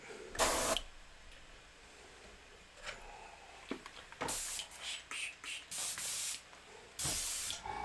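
Short bursts of hissing airbrush paint spray, a few seconds apart, some longer and louder, over a quiet background.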